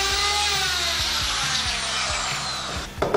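A miter saw's spinning disc cuts a small notch into the edge of a wooden stick, giving a loud, continuous whine with a slowly falling pitch and rough chatter, then a brief clatter at the end.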